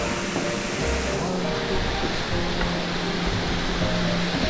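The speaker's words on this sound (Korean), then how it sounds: "시원하네, 물소리가." A small waterfall pours steadily beside a mountain trekking trail in Thailand, its constant broadband rush of water loud and close throughout, with no talking over it.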